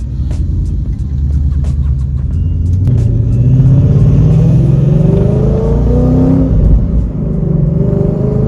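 A car accelerates hard in third gear from 60, its engine note climbing steadily with a loud, continuous roar and no voices.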